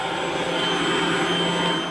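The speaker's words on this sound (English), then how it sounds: "They're also using what's called the Insectizooka to vacuum up and collect engorged mosquitoes." An Insectizooka handheld vacuum running at a feedlot to suck up engorged mosquitoes, a steady loud whining hiss of airflow, close and continuous without pauses.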